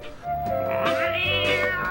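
A cat from a comedy spin-off show gives one drawn-out, wavering meow that fills the whole moment, close and clear with no talk over it.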